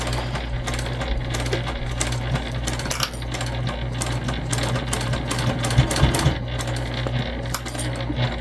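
A sewing machine backstitches through the layered fabric of a crossbody bag, a steady mechanical whir with fine rapid ticking that stays close and continuous throughout, with no talking.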